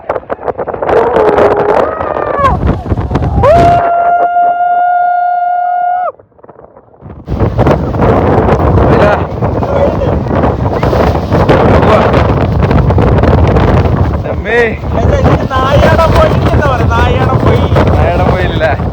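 Strong wind buffets a phone microphone outdoors at Kakkadampoyil, on a phone that had fallen into water, making a loud, continuous rumbling roar that drops out briefly mid-way. Voices are heard, with a sustained tonal sound early on.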